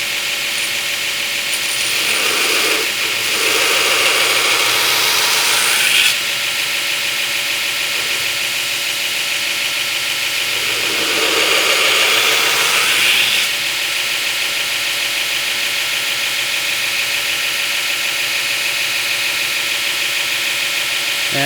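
A belt grinder hisses and whines steadily while recurve bevels are ground on a Damascus integral hunting knife, with two long bursts of harsher, louder grinding as the steel is pressed against the belt.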